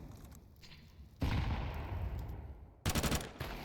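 Rapid automatic rifle fire bursts out in a Counter-Strike match on Dust2, dense rattling volleys that start abruptly, pause, then return in a short sharp burst over faint game ambience.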